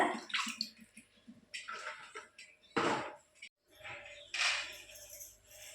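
Tomatoes being washed by hand in water at home while making tomato pickle, with splashing, sloshing and handling noises coming in close bursts.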